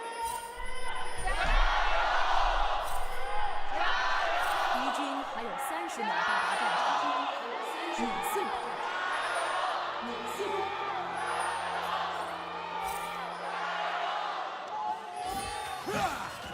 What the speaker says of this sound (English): The BLG and AL chants, solidly loud in this arena.